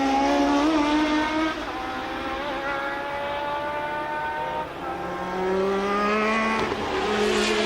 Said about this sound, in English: they're coming up to the Parabolica again, Jones, and look at the water, the spray coming up off their tyres